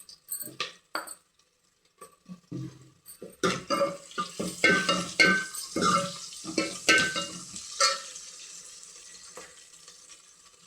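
Crushed garlic drops into hot oil in a sambar pan and fries with a bright, crackling sizzle, close and steady, with a few stirring scrapes and knocks against the pan.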